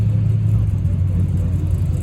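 Race car engine idling and rumbling in the staging lanes at Calverton track, a loud, steady low drone throughout with no clear revving.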